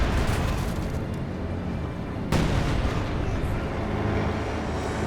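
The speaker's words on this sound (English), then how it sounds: "Howitzer continues to unleash all flavours of hell" Howitzer artillery fire in the World War II strategy game Company of Heroes 2 makes a continuous rumbling roar of blasts, with one sharp heavy boom partway through.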